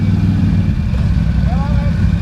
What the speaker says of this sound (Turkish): Debriyaj yandı. Motor çalışıyor mu? Çalışıyor.